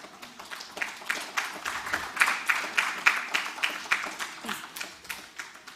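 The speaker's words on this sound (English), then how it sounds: "please give me a huge round of applause for our guest today, Ms. Vanita Agrawal" An audience at a coding competition grand finale and award ceremony breaks into rhythmic applause, moderately loud and sustained for several seconds with steady, even clapping.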